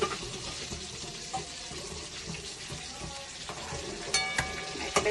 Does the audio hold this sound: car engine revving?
no